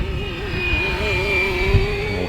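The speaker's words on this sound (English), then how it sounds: "A big helicopter with a GPS like this is just so sweet." A large bright-yellow RC helicopter with GPS hovers nearby, its steady whining rotor and motor drone holding a constant pitch, loud and continuous throughout with no talking.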